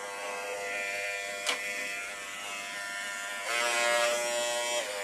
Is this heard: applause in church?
no